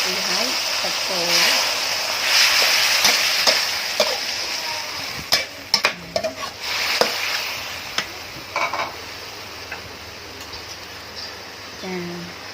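Beef and fresh vegetables stir-fried with soy sauce sizzle steadily in a pan, and a series of sharp utensil scrapes and clatters stands out in the middle, with talk faintly present at times.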